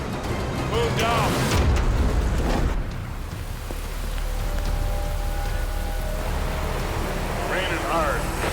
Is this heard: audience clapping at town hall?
no